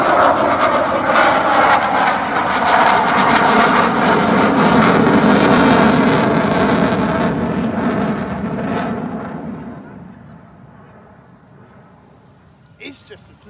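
An RAF Eurofighter Typhoon jet roars loudly overhead during a display at the Bournemouth Air Festival 2022, a sustained close engine blast that slowly fades into the distance, with spectators' voices audible near the end.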